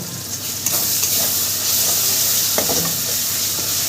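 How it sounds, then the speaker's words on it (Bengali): Biryani masala for a jackfruit biryani is sautéed and stirred in a pan. Steady sizzling runs throughout, with a few light scraping strokes and clicks close by. "এবারে আমি সুন্দর করে কষিয়ে নেব"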